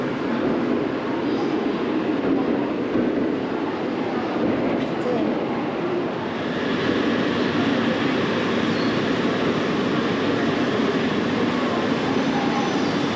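A Japanese bullet train's broad, steady rumble and rushing noise fills the station, shifting a little midway as it departs toward Osaka; muffled voices may sit underneath.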